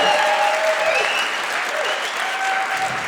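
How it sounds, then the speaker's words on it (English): A live stand-up comedy audience claps loudly and steadily, a thick burst of applause filling the whole stretch with faint crowd voices mixed in. "Clap if you're ready for that."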